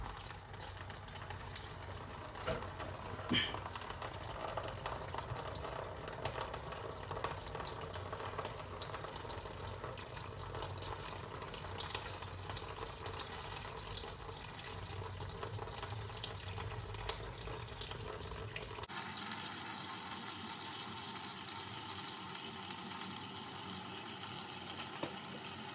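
Coolant draining from a C6 Corvette during winter maintenance; a quiet, continuous trickle and splash of liquid runs steadily for a long stretch, then the tone abruptly shifts and thins toward the end, with no talking.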